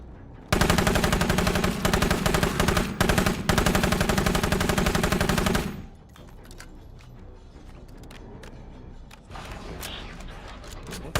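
Sustained automatic gunfire from the video game State of Decay 2 on a hard Darkside difficulty mod, a dense loud burst lasting several seconds that cuts off abruptly into quieter game ambience.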